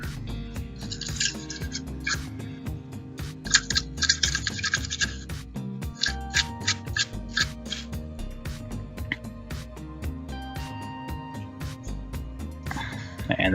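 A toothbrush scrubbing alcohol-wetted circuit board pads on a Lenovo Edge 15 laptop during a power button repair, in bursts of close, rapid scratchy strokes separated by short pauses and occasional taps.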